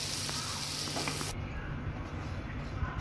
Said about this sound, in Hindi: उसके अंदर हम ऐड करेंगे 3 टेबलस्पून मैदा और उसे अच्छी तरह रोस्ट करेंगे